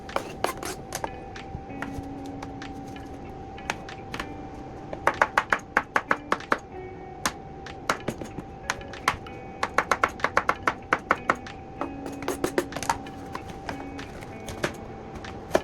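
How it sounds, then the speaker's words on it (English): A knife chops cucumber on a cutting board in sharp, close taps. The strokes come in quick irregular bursts with short pauses, and there is no talking. "the next thing is to chop my cucumber"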